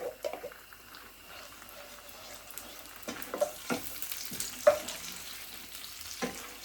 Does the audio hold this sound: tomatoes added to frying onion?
yes